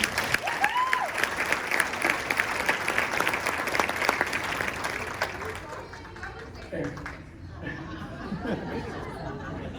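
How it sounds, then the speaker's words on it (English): Steady applause from a crowd with chatter underneath, clapping strong for several seconds before tapering off into murmurs and scattered sounds. "So let's give her a round of applause"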